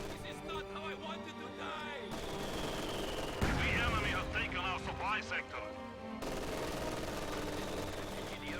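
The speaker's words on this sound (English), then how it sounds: "the MG42 here is going to fire on these conscripts" An MG42 machine gun fires on conscript infantry in a World War II strategy game, its bursts and explosions rumbling amid constant battle noise, with voices talking over the gunfire.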